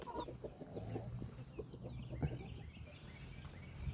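Soft, low clucking from a hen some distance away, scattered short calls over faint outdoor background noise.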